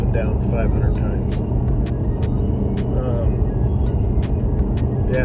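A BMW E60 M5 with an SMG gearbox drives with steady engine drone and repeated sharp shift breaks, clicks recurring every half second or so, as a person talks over the top throughout.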